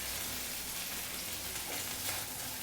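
Mustard and green chilli paste frying in a pan over lowered gas, giving a steady, soft broadband sizzle that holds evenly throughout with no voices.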